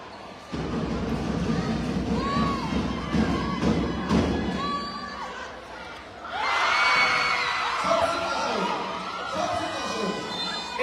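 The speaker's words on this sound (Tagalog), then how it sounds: "Grabe yung crowd ng tumawini." A crowd cheering at a basketball championship final between Santiago City and Tumauini, a loud roar that swells near the end, over thumps and sneaker squeaks with a commentator talking.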